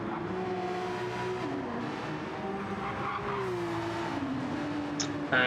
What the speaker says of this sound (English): Amazing sounding Nissan this is.